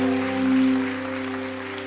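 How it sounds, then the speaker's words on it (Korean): Steady applause from a church congregation at a Friday worship service, a continuous wash of clapping over a sustained tonal hum, loud and close throughout. "박수로 주님께 영광"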